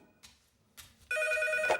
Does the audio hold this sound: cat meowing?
no